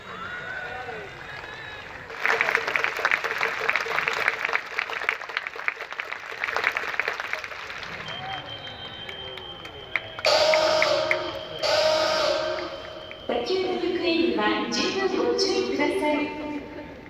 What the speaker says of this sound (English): That coordinated clapping was to cheer on Murakami in his full count situation